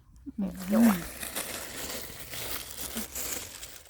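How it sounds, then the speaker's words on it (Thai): A child tears open a plastic bag, brief crinkling and ripping up close while adults speak around it. "โชว์ความสามารถฉีกถุงได้ก่อน"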